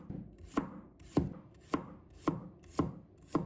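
A knife slices garlic on a cutting board in a steady rhythm of about seven crisp, evenly spaced thuds, close and clear, with no talking.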